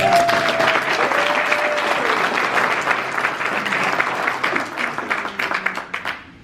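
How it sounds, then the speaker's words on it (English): A civic-military gathering applauds its active duty members with loud, sustained crowd clapping that thins out near the end into a few scattered, separate claps before fading. "round of applause for our active duty"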